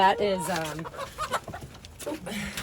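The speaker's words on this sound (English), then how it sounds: "she's a chicken called a Flower Hen" Flower Hen chicken clucking in a series of short, close calls, with a person speaking over parts of it.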